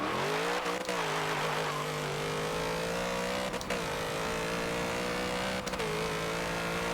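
1993 Ford SVT Cobra R Foxbody with a drag tune in Forza Motorsport 7, accelerating hard down a quarter-mile drag strip, its engine roaring loud and close as it climbs in pitch through several gear shifts.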